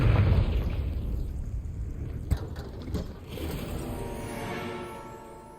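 A fire spell blast in Hogwarts Legacy on PS5: a loud roaring burst that opens the clip, a sharp crack midway, then a rumbling, whooshing decay fading out, with no talking.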